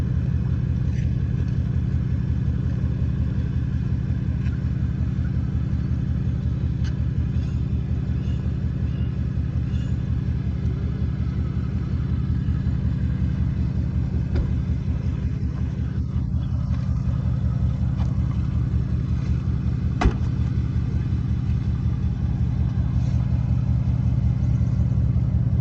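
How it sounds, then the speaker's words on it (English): A Ford Mustang drives along with a low, steady engine rumble and road drone that stays constant and fairly close for about twenty-five seconds, with no voices. "Let's take a drive, Sagar."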